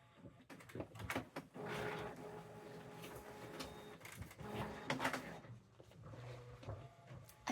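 Desktop printer running in a home studio, with feed clunks, whirring carriage passes and mechanical clicks at a quiet level, arriving in several uneven bursts with no talking.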